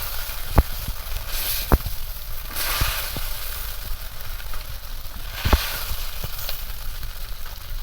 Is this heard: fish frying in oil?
yes